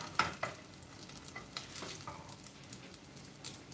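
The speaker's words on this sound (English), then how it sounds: "It's still sizzling, but it's like popcorn." Food frying in a pan, with a steady crackling sizzle full of irregular popping spits and occasional sharper pops, heard close and alone with no talking.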